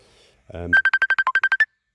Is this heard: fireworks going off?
no